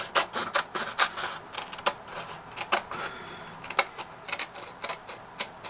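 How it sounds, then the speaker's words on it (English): Blunt scissors snip through paper being shaped into a cone, a steady run of short crisp cuts repeating close to the microphone with no talking. "now let's turn that into a cone with the bluntest scissors in the world"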